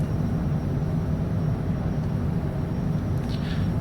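An aircraft climbing away after takeoff from Colombo, a steady broadband rumble and roar heard from inside the cockpit, constant throughout with a faint brief whine near the end.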